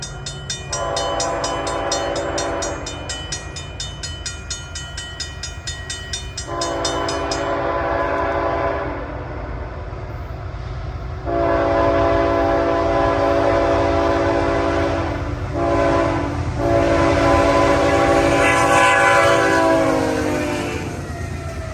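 A BNSF intermodal freight train rumbles steadily past a crossing in Greenville, South Carolina, its horn sounding in long, loud harmonic blasts, several in sequence, with a brief bell-like ringing early on.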